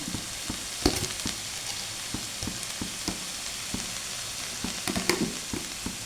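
Masala dosa potato filling frying and being stirred in a pan, a steady close sizzle broken by repeated scraping strokes of the spoon, with no talk.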